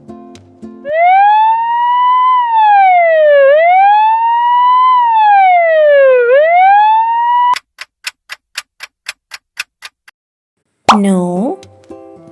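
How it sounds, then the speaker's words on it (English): A wailing ambulance siren rising and falling in long sweeps, loud and alone, followed by a burst of rapid ticking plops and then a short squeaky cartoonish sound. "Yes, it's an ambulance."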